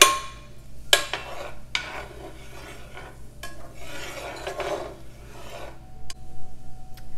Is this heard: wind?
no